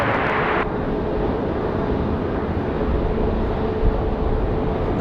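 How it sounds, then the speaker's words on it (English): A Boeing 737 arriving from Atlanta touches down on the runway at Raleigh-Durham International on a windy day, giving a loud, steady roar of engines and wind rumble that holds for several seconds with no voices. "Nice firm touchdown for the 737 from Atlanta."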